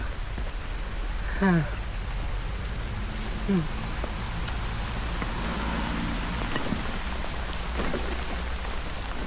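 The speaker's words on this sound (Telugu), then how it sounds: "and full rain" Steady, dense rain hisses continuously, with a low rumble underneath and a couple of brief voice-like chirps briefly rising above it.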